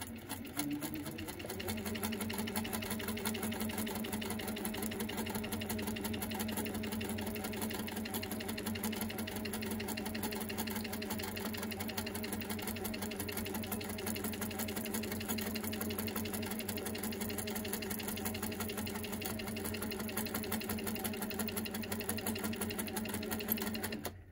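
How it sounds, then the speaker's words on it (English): A sewing machine running steadily through free-motion quilting on silk organza, a continuous, even whir held for the whole stretch at moderate volume with no talk over it. "my intention is to do 2 rows of stitching, which I often do when I'm quilting, when I'm appliquing and quilting at the same time"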